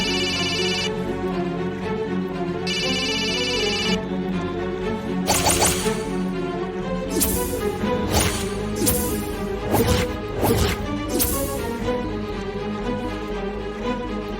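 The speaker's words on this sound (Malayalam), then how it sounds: "നിങ്ങളെന്താ ഫോൺ എടുക്കാത്തെ? കോൾ അറ്റൻഡ് ചെയ്യ്." A phone rings with an incoming call indoors in a Malayalam TV serial scene, two bursts of a bright electronic ringtone over a drama music bed, followed by sharp knocks and thumps, with no talk.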